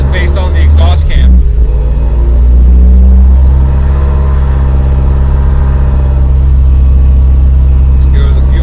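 A 2008 Subaru STi with a G30-770 turbo on flex fuel idles and revs during tuning, a loud, steady engine drone with a brief throttle blip early on, close and continuous throughout.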